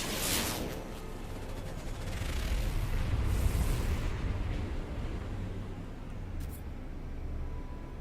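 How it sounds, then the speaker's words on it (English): Anti-aircraft guns fire in a PC base-building game, a sustained rumbling barrage of dull booms and crackling bursts that swells and fades over several seconds, with a few sharp reports near the end. "I think I'm being shot at by anti-aircraft guns or something."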